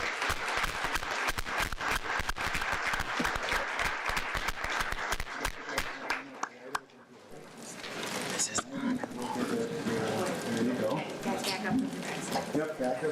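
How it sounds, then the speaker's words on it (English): Dense applause fills a school district board meeting room: a loud, continuous clatter of many hands that breaks off after about six seconds. Murmured voices and people talking nearby follow. "Why don't we give them a round of applause?"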